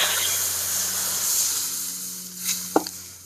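Water poured into a hot wok after frying eggplant hisses loudly at once, a dense steady steam sizzle that fades slightly and ends with a couple of utensil knocks.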